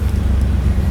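Oldsmobile Cutlass engine running, a steady low rumble close by with no other sounds.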